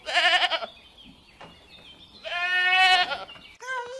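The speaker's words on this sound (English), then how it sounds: "Goat. Goat." A goat bleats close by: a loud wavering cry, a pause, then a longer quavering bleat and the start of a third, each standing alone.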